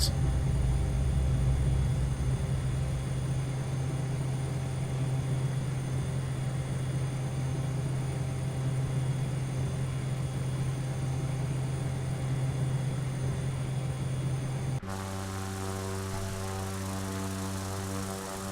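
A simulated aircraft engine at takeoff power in Flight Simulator X, on a flight from Ilulissat to Sisimiut, drones loud and steady, then shifts to a lower, smoother tone near the end.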